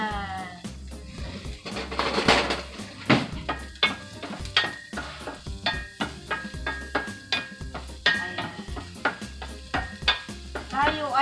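Food cooking in a pan, probably chicken, in a home kitchen: repeated sharp clinks and scrapes of stirring over a faint sizzle, with tonal bleating-like sounds or voices mixed in, loud and irregular throughout.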